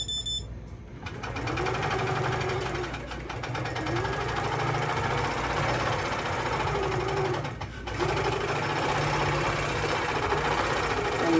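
A sewing machine tacks down a quilt with a loud, steady mechanical whir running close and continuous, dipping briefly a couple of times before carrying on at the same pace.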